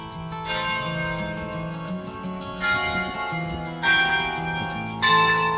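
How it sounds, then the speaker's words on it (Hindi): Church bells ring out from a very tall historic church in Savannah, Georgia, with a steady sustained tone and louder fresh strikes coming every second or so, close and clear over the city ambience. "Church very tall. गिनते हैं कितनी घंटियां होती हैं।"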